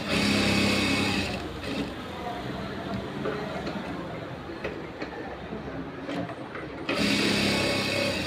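Sewing machine stitching a blouse at a tailoring class, a steady mechanical whir running through most of the clip, louder at the start and end, with a voice talking faintly underneath.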